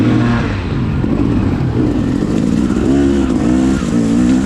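Dirt bikes blaze fresh, untouched trail during a cross-country pro-class race, engines revving loud and close with steady throttle swells and shifting pitch throughout.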